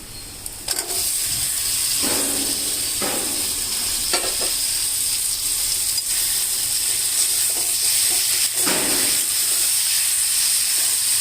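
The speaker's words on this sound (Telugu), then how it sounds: "ఈ రొయ్యలు కొంచెం నూనెలో వేగాలి, అందుకని కాసేపు హై ఫ్లేమ్లో పెట్టుకుంటే మంచిగా వేగుతాయి" Tiger prawns frying in oil in a pan over high flame, a steady loud sizzle and hiss with occasional louder crackles and stirring scrapes, with no talking.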